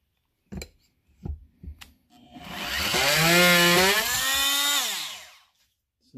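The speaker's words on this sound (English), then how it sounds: "use my Bowers oscillating tool that I got from my son for Christmas" A Bowers oscillating multi-tool cuts through holding tabs on a cribbage board, rising to a loud, steady buzzing whine for a few seconds after some short knocks and handling sounds, then cutting off.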